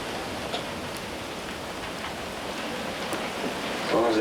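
Steady light rain falling outdoors near a beach, a soft even hiss of drizzle with no wind, heard alone with a faint voice murmur near the end.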